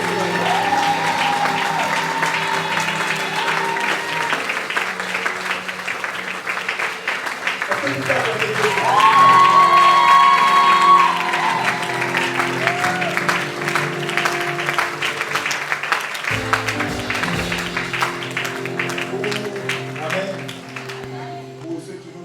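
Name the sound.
audience applause in church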